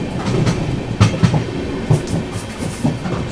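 The Magadh Express rolls past Panki Dham station, its wheels giving a steady rumble and a few distinct clickety-clack beats over rail joints, heard from on board at a moderate, even level.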